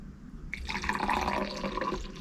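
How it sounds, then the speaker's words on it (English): Thick Mexican hot chocolate pours from a square-lipped pot into a cup, a close, steady liquid stream that starts suddenly and gurgles as it fills, with no talk. "And now it's ready, and I'm gonna pour it into my cup."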